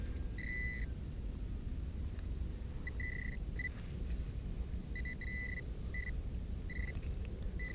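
A metal detector sweeping a field in the UK gives a run of short, high electronic beeps in repeated bursts when it passes over a buried target. Steady wind and low rumble sit underneath.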